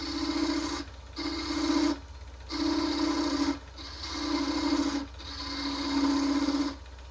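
A parting tool cuts off the stem of a small wooden Christmas ornament spinning on a lathe, making four or five rasping scrapes broken by short pauses, close and steady.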